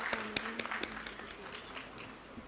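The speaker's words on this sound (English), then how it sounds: "Could we have a huge round of applause for our esteemed guests" Applause from an audience honoring guests at a Doon University ceremony marking India's G20 Presidency. It is a fairly quiet, even patter of many hands with a few sharper individual claps near the start.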